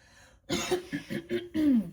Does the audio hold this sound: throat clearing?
yes